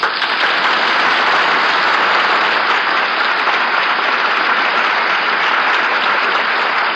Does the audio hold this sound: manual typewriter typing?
no